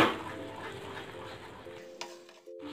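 Thickening sugar syrup with ghee gets stirred in a pan for tagar, a close scraping and soft bubbling that fades toward the end, with a light clink of a utensil near the finish.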